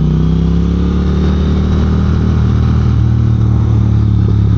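Triumph Speed Twin motorcycle engine while riding, a loud, continuous mid-pitched twin-cylinder drone with steady revs and light engine braking, close-up with wind noise and no talk.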